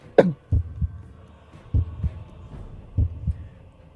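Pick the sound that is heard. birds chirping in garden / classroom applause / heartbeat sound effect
heartbeat sound effect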